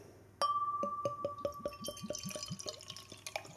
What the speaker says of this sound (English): Beer pouring out there.